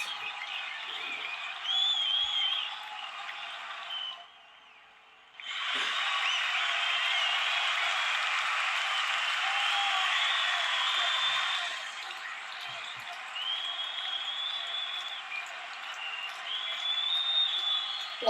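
An audience cheers and applauds in a sustained, even wash of crowd noise that dips briefly silent partway through and then carries on at full strength.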